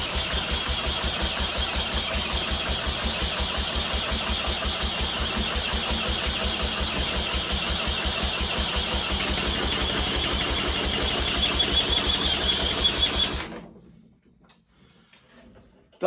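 A two-stroke engine is cranked over and over without firing or popping: a steady, rapid, mechanical churn runs loud and close for about thirteen seconds, then cuts off abruptly into near silence.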